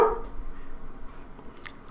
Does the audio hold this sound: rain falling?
no